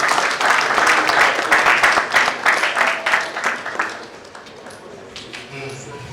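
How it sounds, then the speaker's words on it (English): An audience at a formal event honouring Dr. Ejike breaks into a round of crisp, close clapping that thins out and fades over the last couple of seconds. "Dr. Ejike deserve a resounding round of applause"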